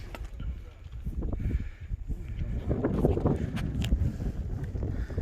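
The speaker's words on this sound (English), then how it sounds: "Don't know if you can hear the wind on camera" Wind buffets a microphone on an exposed Scottish hilltop, a steady low rumbling roar with gusty swells throughout, loud and close, while someone talks over it.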